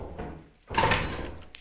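A door slides shut in the co-op horror game Lethal Company, a single whooshing mechanical close rising in the middle of the clip over faint background noise.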